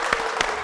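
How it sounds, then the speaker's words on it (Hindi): Audience clapping at an Odisha reality show event, a brief burst of claps with a few sharper slaps standing out over a steady wash of applause. "जोरदार ताली बजाओ"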